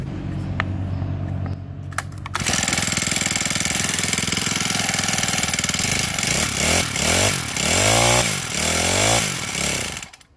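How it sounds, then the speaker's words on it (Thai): A Honda GX25 small four-stroke engine with a fault that makes it die when revved. After a few pulls it starts, idles with a loud buzzing clatter, then revs up and down several times before cutting out abruptly at the end. "เดี๋ยวสตาร์ทให้ดูครับ สตาร์ทง่ายๆนะครับ"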